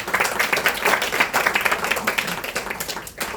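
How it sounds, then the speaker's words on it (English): Audience at a press conference applauding the nominees, a dense, sustained round of clapping heard up close and filling the room. "Can you all please give our nominees a big round of applause?"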